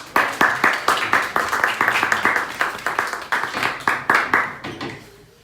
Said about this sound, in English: Please, everyone, let's welcome Katherine Whitcomb